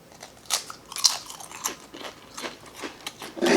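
Pringles crisps crunched and bitten in close, repeated snaps with brief pauses between chews, no talking.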